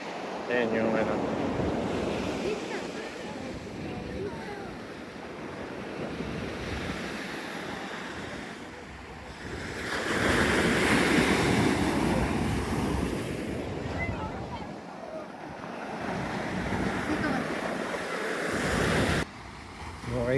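Sea waves washing onto a beach shore, a steady rushing surf that swells and recedes in broad surges, heavy wind buffeting the microphone throughout, no clear talk.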